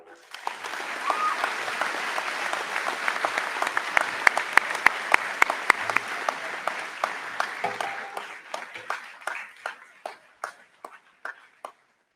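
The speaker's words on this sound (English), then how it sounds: "A round of applause again for you guys." A room of people at a drug-free student leaders kickoff event give a long round of applause, dense at first, then thinning into scattered individual claps that fade out.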